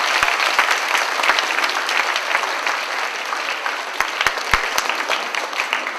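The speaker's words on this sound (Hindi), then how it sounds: "हम उन्हें भी जोर से ताली बजाकर धन्यवाद देते हैं।" Audience applause fills a church ceremony, steady dense clapping from a crowd for the full stretch, fairly loud and close, with a few sharper individual claps standing out near the start and end.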